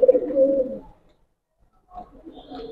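A Giribaz pigeon in a loft lets out a close, throaty coo that fades into a second of near silence before softer, murmuring coos resume.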